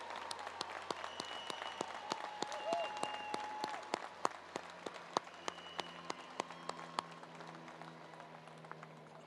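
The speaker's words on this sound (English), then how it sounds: "Please join me in giving them a round of applause in recognition of their role in your success" Audience at a university commencement ceremony applauding, heard as a sparse run of distinct hand claps spreading through a large hall, faint and distant over a low background hum.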